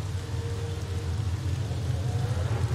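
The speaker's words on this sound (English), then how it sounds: "A crack of lightning and thunder, the storm clouds rush in, unleash a torrent of wind and rain." Steady heavy rainfall with a low rumbling storm bed in the Shadowgate video game, a continuous dense downpour that stays close and even throughout with no voices.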